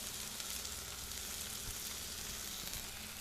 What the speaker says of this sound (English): This griddle is smoking hot right now.